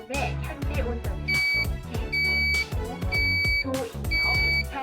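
A Taejin Tech MC-1012NS temperature alarm unit sounds a low-temperature warning in a one-room flat, emitting four evenly spaced steady electronic beeps over loud rhythmic background music.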